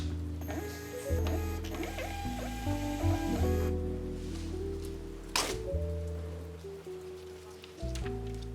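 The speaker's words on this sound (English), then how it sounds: "Now I'm adding 4x6 labels to the printer and printing out the shipping label." A label printer feeding and printing a 4x6 shipping label, with close, whirring motor runs, stepped mechanical ticks and a sharp clack partway through, alone in a quiet room.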